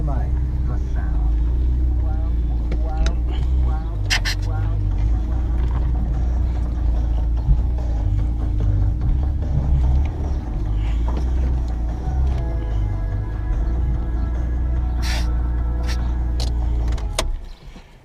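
A BMW E46 330Ti, converted from a 316Ti, runs with a steady, loud engine drone close by for most of the stretch before cutting out near the end. Voices are present.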